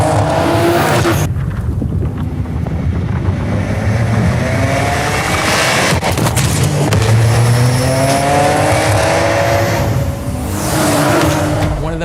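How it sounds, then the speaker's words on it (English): Nissan Skyline R34 performance car driving loudly, engine note rising and falling with brief tire squeals, continuous and close throughout. "We're talking the Nissan Skyline R34."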